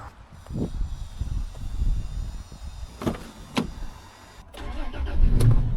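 An old Australian classic work vehicle starts up, with cranking and a mid-pitched engine catching and idling close by under a low rumble, plus a clunk near the end.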